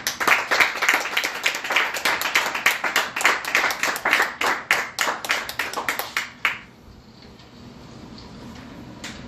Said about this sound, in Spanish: Le pueden dar un aplauso al Señor.